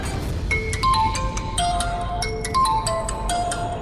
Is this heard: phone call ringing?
yes